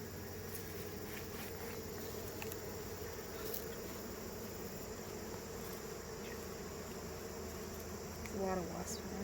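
Honeybees and wasps swarm around a hive being moved from a Langstroth to a Layens box. Their dense, steady buzzing fills the air throughout, and one insect passes close near the end.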